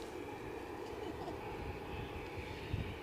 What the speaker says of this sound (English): Above us just now is an Edinburgh 190.